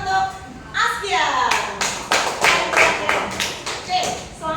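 A fifth-grade class claps for a student in an elementary school classroom, a burst of loud, uneven hand claps close by. Children's and a teacher's voices are heard around the clapping.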